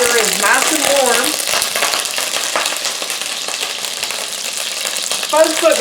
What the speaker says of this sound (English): we will go ahead and start browning our meat rolls